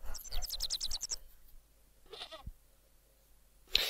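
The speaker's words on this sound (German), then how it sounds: "Können wir mit der Ziege sprechen?" A goat in the PC/PS1 adventure game Baphomets Fluch gives a quick run of rhythmic, wavering bleats that stop abruptly, followed by quieter in-game sounds and a short sharp noise near the end.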